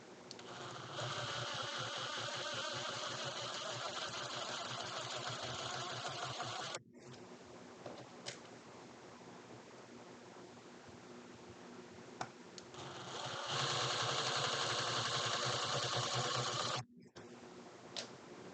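Impact driver running in two long sustained bursts while tightening bolts, a steady whirring hammer with a short pause between runs, fairly close and loud.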